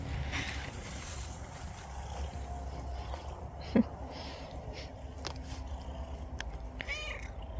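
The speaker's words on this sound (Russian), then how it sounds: "Ну что, прибилась соседская кошка к нам." A cat meows a few times at a village house, faint and somewhat distant, over a steady low background rumble with a brief knock in the middle.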